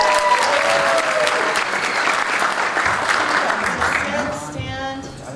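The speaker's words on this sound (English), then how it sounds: "I was trying to elongate the applause." Loud, sustained applause from a large crowd at a fan convention, dense clapping that holds steady and then thins slightly toward the end.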